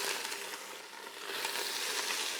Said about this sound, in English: We're going to fry off the shells first to get out as much flavor as possible.